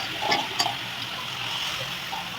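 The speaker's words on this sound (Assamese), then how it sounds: "দিয়াৰ পাছত ভালদৰে কেৰাহীত মিক্স কৰি লৈছোঁ" Potatoes and naltenga being stirred in a kadai make soft scraping and wet sizzling sounds with a few sharper clicks, steady and close, with no talking.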